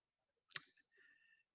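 A single sharp computer mouse click, close and crisp, followed by a faint soft tail in an otherwise quiet room.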